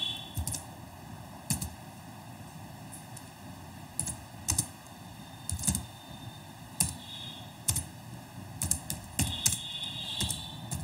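Typing on a computer keyboard while entering text in a Microsoft Word 2007 document, uneven clusters of crisp keystroke clicks with short gaps, close and soft, over a faint steady hum with no speech.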